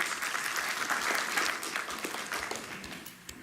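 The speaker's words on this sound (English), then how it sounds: "please a round of applause for our great colleagues" An audience at a psychiatry lecture and psychic presentation gives colleagues a round of applause, steady, fairly distant clapping that tapers off toward the end.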